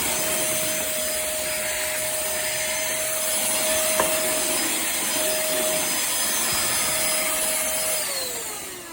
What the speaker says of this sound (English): Here we have the pemacom Cordless Handheld Vacuum Cleaner.